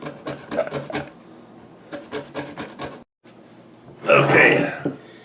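A lemon is zested for smoked lemon black pepper jerky, with quick rhythmic scraping strokes in bursts followed by a louder, rougher rasp.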